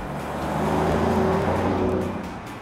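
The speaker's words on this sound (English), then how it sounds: "when you put that foot to the floor, it opens up wide and gives you the full exhaust note" A 2014 Mercedes-Benz S63 AMG under full throttle, a deep exhaust roar swelling loud and close, holding a rich drone and then easing off over under three seconds.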